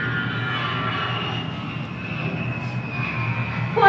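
An airplane engine drones steadily and loudly as a stage sound effect in a school drama club production of James and the Giant Peach, holding a constant roar with a slight swell at the end.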